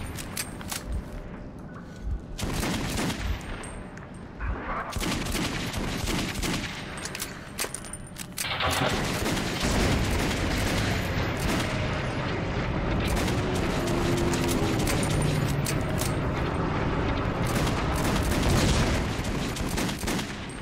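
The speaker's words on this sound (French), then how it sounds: "Vous savez que le pistolet est d'une puissance phénoménale." Loud gunfire from a pistol in the video game Metro 2033, dense repeated shots and booms blending into a continuous, heavy wash of sound with no pauses.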